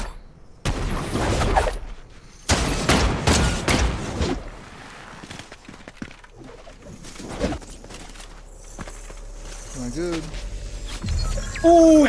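Gunfire in the video game Fortnite, with bursts of rapid shots and sharp single cracks scattered through the scene while players talk excitedly over the action.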